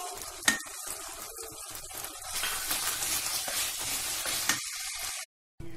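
Rice being stirred into risotto in a pan, a steady scraping and sizzling texture that runs continuously with a few sharper knocks of the spoon, then cuts off abruptly near the end.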